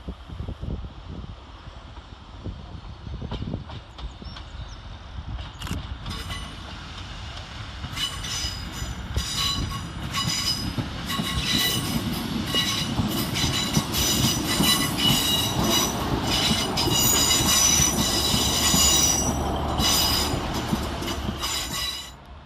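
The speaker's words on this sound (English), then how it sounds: "Arriving to terminate with a Transport for Wales service from Crewe is" A Transport for Wales Class 150 diesel unit from Crewe rolls into Chester railway station to terminate. A low rumble swells into loud, close clattering wheels and high squealing over about twenty seconds, with no voices.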